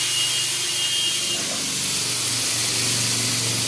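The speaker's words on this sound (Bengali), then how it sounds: "গরম হয়ে গেছে, আমি দিয়ে দিচ্ছি একটু জল" Water poured into a hot kadai, a loud broadband hiss and sputter that holds steady throughout, with no talking.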